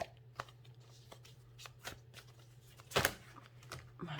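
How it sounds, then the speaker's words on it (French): Tarot cards are shuffled and drawn by hand in a series of soft, quick riffling rustles and taps with a low steady hum beneath, one louder flurry standing out near the middle. "Je vais tirer hop, une autre carte"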